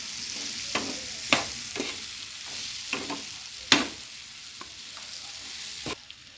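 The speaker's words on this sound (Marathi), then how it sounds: "छान असं ते हलवून घ्यायचं आहे। मस्त असं सगळे व्यवस्थित सगळ्यांना तो मसाला लागला पाहिजे, सगळ्या सोयाबीनमध्ये तो मिक्स झाला पाहिजे।" Soybeans tossed with masala in a hot pan, a spoon stirring through them with sharp scraping clacks every second or so over a steady, close sizzle.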